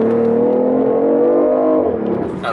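A BMW i8 engine revs hard toward redline in manual sport mode, a loud, close, rising drone that holds steady, then drops sharply as the gearbox shifts up automatically.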